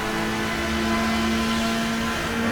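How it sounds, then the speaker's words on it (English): A V12 engine in a GTS-class Le Mans race car, in a racing video game, drones loud and steady at high revs, a continuous strong tone held with no talking. "This is running in GTS class with its V12 engine, a very awesome sounding car."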